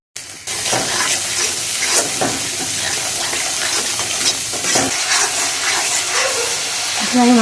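Spiced meat being sautéed in a pan sizzles and hisses steadily throughout, with stirring scrapes and clatters near and loud, and a brief harsher burst near the end.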